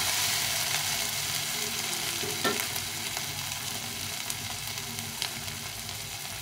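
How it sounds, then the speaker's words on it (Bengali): Bottle gourd seasoned with salt and turmeric sautés in a pan with a constant sizzle, and a few scraping stirs sound clearly above the frying. "এটাকে একটু জল দিয়ে কষিয়ে নেব।"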